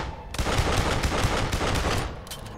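Rapid automatic gunfire in the Duke Nukem Forever video game, a dense continuous burst of loud shots that runs for about two seconds after a brief quiet start, with no talk over it.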